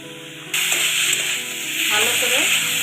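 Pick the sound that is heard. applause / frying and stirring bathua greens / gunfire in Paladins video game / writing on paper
frying and stirring bathua greens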